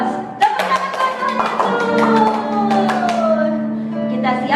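Children and adults in an online Sunday school session clap their hands in a quick, uneven burst mixed with voices, the claps sharp and close over ongoing chatter and singing tones.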